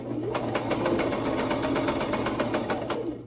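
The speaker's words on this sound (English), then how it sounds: "We'll sew in reverse and go back down." A sewing machine stitches in reverse while sewing pants, running with a continuous close mechanical whir and fast regular needle clatter throughout.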